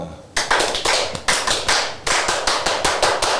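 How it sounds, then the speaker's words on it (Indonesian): A Pramuka scout rhythmic clap pattern performed indoors by a small group, sharp close claps in quick bursts and pauses forming a patterned sequence, loud and nearly free of talk. "Tepuk Pramuka, gimana Om?"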